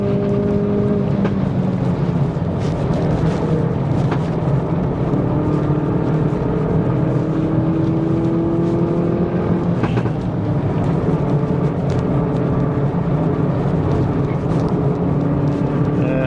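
A Hyundai i30N Performance drones steadily at Queensland Raceway, its engine note holding a sustained loud tone with slight pitch shifts as the throttle is worked through the lap, with no talking.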